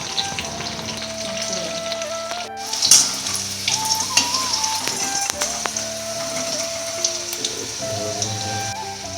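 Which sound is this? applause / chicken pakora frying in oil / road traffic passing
chicken pakora frying in oil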